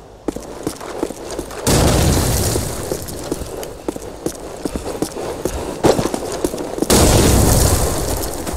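Frag grenade explosions in the Call of Duty 4 war game: two loud, broadband booming blasts with rumbling decay, among scattered gunfire and battle clatter.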